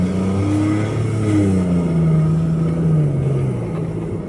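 A BMW i8 hybrid's combustion engine cuts in under acceleration while leaving town, a rising drone heard from inside the car that climbs steadily in pitch, moderately loud and continuous, with no talking.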